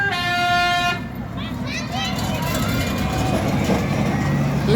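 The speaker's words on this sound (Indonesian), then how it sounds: "Terdengar klakson Basuri." A Basuri telolet horn on a bus sounds a loud, bright melodic toot at an Indonesian bus terminal, a sustained musical blast ending after about a second, followed by engine rumble and terminal bustle with a voice talking over it.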